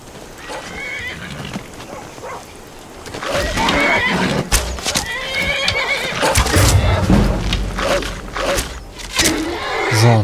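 A horse whinnies loudly amid clip-clopping hooves and busy sound effects in Skyrim, with the neighing repeating over several seconds.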